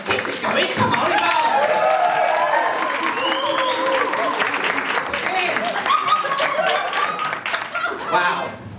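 Applause from a comedy club audience carries on loud for several seconds, thick with clapping and some chuckles, while a voice calls over it before the clapping thins out near the end.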